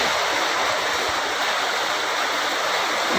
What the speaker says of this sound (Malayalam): അപ്പോൾ ചെറിയൊരു വെള്ളച്ചാട്ടം കണ്ടു